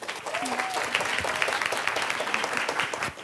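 Steady audience applause for a guest speaker at a health conference, dense and sustained throughout, with a faint whistle and some crowd voices mixed into the clapping.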